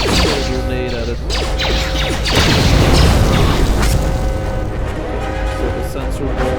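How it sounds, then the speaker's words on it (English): A grenade goes off against a droid in the KOTOR II video game, a loud booming blast with a crunching metallic crash over steady game music and effects. "Throw a grenade at it."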